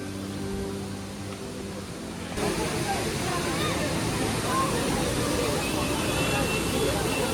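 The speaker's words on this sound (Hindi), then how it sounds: "ये पहला वाटरफॉल है, ये पहला वाटरफॉल।" Neer waterfall near Rishikesh, a steady broadband rush of falling water that starts quieter and jumps louder partway through, with a murmur of people in the background.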